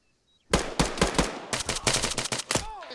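A rapid volley of video game gunshots erupts after a brief quiet, loud, close bursts firing in quick succession for about two and a half seconds, with a ringing whine trailing at the end.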